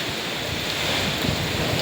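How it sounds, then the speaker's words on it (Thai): Strong storm wind gusts past an exposed microphone outdoors in Nakhon Phanom during a sudden rainstorm, a steady, loud, broadband roar with low buffeting rumbles that swell slightly toward the end, no voices. "ลมแรงมากเลยครับพี่เพื่อน"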